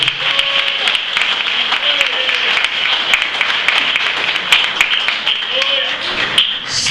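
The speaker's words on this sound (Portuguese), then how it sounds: "Quem pode aplaudir ao Senhor?" A church congregation applauds, a continuous wash of many hands clapping at once through the whole stretch, with voices rising over it now and then.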